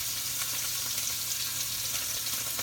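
Steaks searing on a hot griddle after sous vide cooking, a steady, loud, close crackling sizzle that holds without pause throughout.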